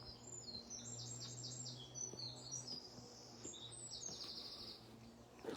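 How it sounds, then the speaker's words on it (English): Birds sing in quick, high chirping phrases, repeated again and again over a quiet outdoor background with a low steady hum. "And the bird song just playing alongside us."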